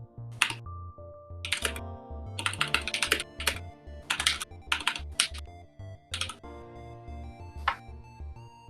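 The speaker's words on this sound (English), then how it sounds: "Why do we all have to get these goddamn mechanical keyboards?" Bursts of clicky keystrokes rattle from a mechanical keyboard, fast clusters of sharp taps separated by brief pauses, close and clear with a faint tone humming underneath.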